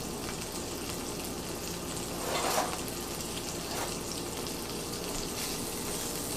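Yellow summer squash fries in a skillet with a continuous, moderate hiss and a brief louder surge of sizzling partway through.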